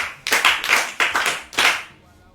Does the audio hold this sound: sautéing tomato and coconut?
no